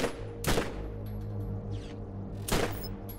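Gunfire in the video game Borderlands from a gun that fires four shots per trigger pull: two sharp, loud bursts about two seconds apart over a steady droning game backdrop.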